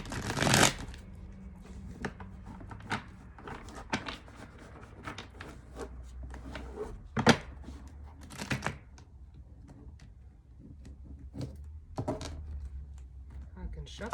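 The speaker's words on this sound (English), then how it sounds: "Shuffle" Tarot cards are shuffled by hand in repeated quick riffles and soft slaps, close and crisp, with brief pauses between bursts.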